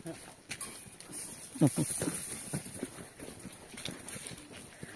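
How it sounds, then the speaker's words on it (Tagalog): Hoofbeats of a wild horse clip-clop irregularly nearby in Sibuco, mixed with rustling and scattered movement; a voice talks briefly partway through. "Ay kabayo, oh. Huy. Wild horse."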